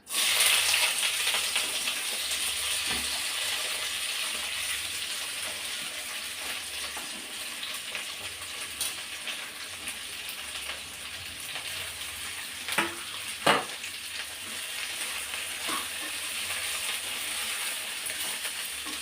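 Cabbage frying in a pan for a coconut cabbage chutney, a steady close sizzle with occasional stirring clinks and a couple of sharper scrapes near the end.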